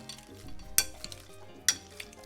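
Avocado being mashed with a fork in a bowl for guacamole, wet mashing and stirring with two sharp metallic clinks of the fork against the dish, close and fairly quiet.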